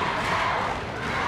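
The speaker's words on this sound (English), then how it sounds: "And listen to our crowd." A full-house wrestling crowd in a coliseum roars loudly and continuously, a dense wall of cheering with no pauses.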